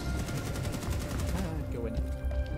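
Rapid automatic gunfire from Rainbow Six Siege rattles in a fast burst of evenly spaced shots for about a second and a half, then breaks off into scattered game sounds and faint background voices.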